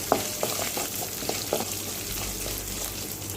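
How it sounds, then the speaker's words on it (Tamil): Ginger and garlic sauté in a pan over a medium flame, giving a steady, close sizzle and frying hiss with scattered crackles and pops on top. No one speaks. "இதை வந்து ஒரு 2 நிமிஷம் மிதமான தீயில் எல்லாத்தையும் வதக்கிக்கலாம்"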